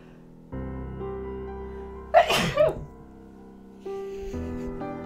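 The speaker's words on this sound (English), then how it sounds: "I'm gonna sneeze" A single loud sneeze bursts out over a steady musical background in the Stardew Valley game, a short sharp intake followed by the explosive release, and the music carries on afterward.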